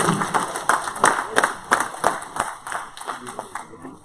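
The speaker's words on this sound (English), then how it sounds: "Give the Lord a hand clap of praise." A church congregation claps in praise, a dense run of rhythmic hand claps at close range with a voice speaking over them, the clapping thinning toward the end.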